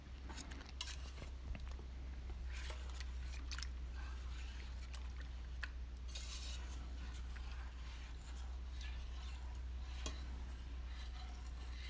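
Dark chocolate truffle mixture is stirred by hand in a bowl, giving faint, irregular taps and soft scraping clicks over a constant low hum, with no talking.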